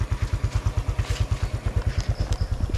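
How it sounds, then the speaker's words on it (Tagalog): A motorcycle engine idles while warming up before a long ride, giving a steady, rapid low thumping pulse close by. Faint clatter sits over it and no one speaks. "Ito na yung motor ko, yan,"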